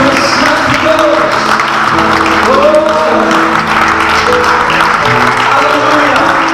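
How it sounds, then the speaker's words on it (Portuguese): A church congregation claps together in a steady, sustained wash of applause that runs the whole time, with worship music and singing tones carrying underneath. "Você pode aplaudir Jesus, querido."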